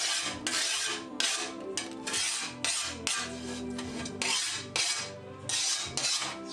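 A glass edge for picture framing is smoothed without sandpaper, making about a dozen rhythmic rasping strokes, close and loud, each a scraping rub separated by brief pauses.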